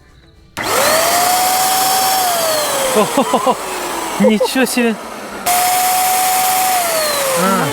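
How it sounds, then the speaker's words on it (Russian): An electric paint sprayer, run with plain water before use with acrylic paint during a rural old-house renovation, starts with a loud steady whirring whine, drops out while voices exclaim, then switches back on at full strength. "вначале мы инструмент прогоним водой. Да, вообще проверим, как он дует, да?"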